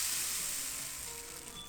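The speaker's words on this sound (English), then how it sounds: "They also had a rain stick." A rain stick at a musical instrument museum in Hamamatsu, Japan, gives a steady, close, hissing rattle of falling beads that fades slightly over under two seconds, with no voices.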